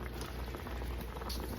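A pot of water with pork neck bones at a steady, rolling boil, with dense continuous bubbling heard close up and no talking.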